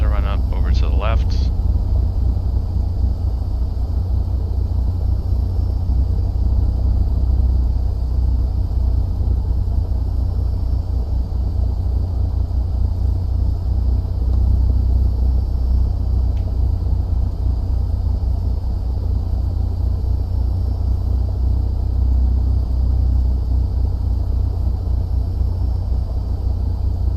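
A small aircraft engine holds a steady, loud droning run-up while parked before a test flight, the low rumble constant throughout with a faint high whine above it.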